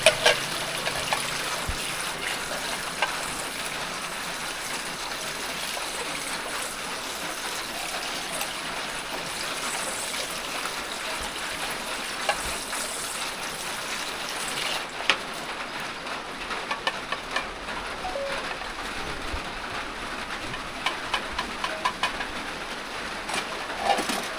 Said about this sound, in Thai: ฝนตกเลยมันนี่เด้อบ่ค่อยได้ยินปานใดเลย